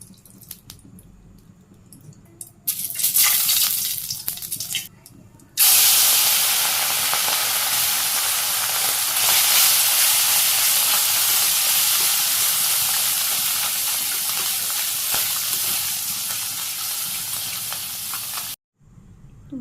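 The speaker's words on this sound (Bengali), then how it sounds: "মাছগুলো ভাজি করে নিব" Small puti fish coated in spices frying in hot oil in a Bangladeshi village kitchen, a loud steady sizzle that swells sharply after a brief quieter start and holds for most of the time before cutting off abruptly.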